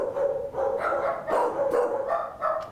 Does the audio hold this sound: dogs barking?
yes